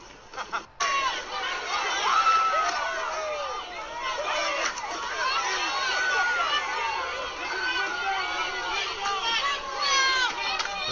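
Crowd of people in a video game riot: dense overlapping shouting and chatter from many voices with running and scattered impacts, steady and loud throughout, with a brief dropout near the start.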